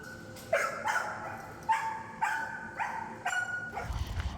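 A dog at an animal shelter gives a series of short barks and yips, roughly five sharp bursts spaced about half a second apart, moderately close in a reverberant room with a low rumble near the end.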